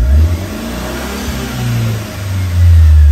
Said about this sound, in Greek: Πατάω λίγο το γκάζι και πώς ανέβουν οι στροφές